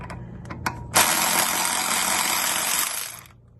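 Enegitech 12V electric ratchet wrench spinning a lug nut: a few short clicks, then a loud, close, continuous buzzing whir for about two seconds before it cuts off.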